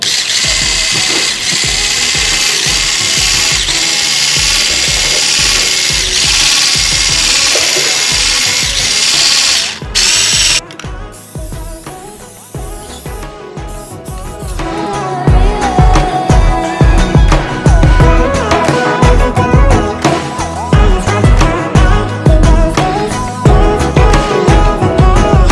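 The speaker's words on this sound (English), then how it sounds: "Now I am about to mix this with my hand mixer." An electric hand mixer beats brownie batter in a home kitchen, a loud, continuous motor whir that changes pitch and texture as the beaters work through the mix, growing rougher and more rattly toward the end.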